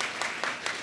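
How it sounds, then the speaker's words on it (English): A panel audience at a digital media exhibition clapping, a brief spatter of a few faint claps at a distance in a quiet room. "We can clap again."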